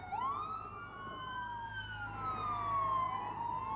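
An ambulance siren in the BeamMP driving game wails in long rising and falling sweeps, steady and moderately loud over a low engine hum, with no talk.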